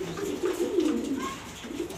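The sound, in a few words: mili pigeons cooing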